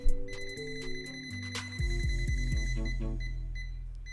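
A Mechanic V90E multimeter's voltage detector beeps in rapid, steady high-pitched tones near a live power socket, with sharper bursts and shifting buzzing tones as it reacts, fairly loud and close.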